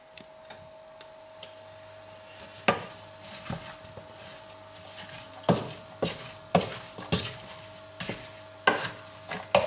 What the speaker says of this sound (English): So I'm just mixing it all together and I'm going to slowly cook it